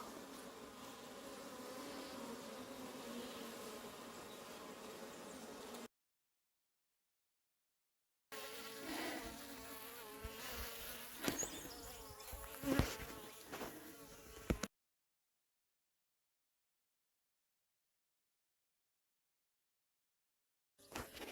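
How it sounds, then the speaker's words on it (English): Defensive honey bees buzzing around a hive in a continuous droning hum, rising and falling in pitch, broken by stretches of silence and a few bumps and knocks. "these bees would probably not be nearly this angry with me"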